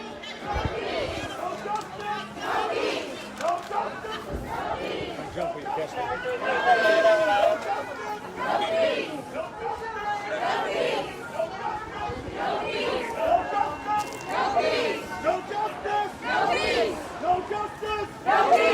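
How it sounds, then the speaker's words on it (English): A sizable crowd at a Black Lives Matter rally in Newport, Rhode Island, fills the air with continuous, loud, dense chatter and overlapping voices, with shouts rising above the steady murmur throughout. "Still a sizable crowd here."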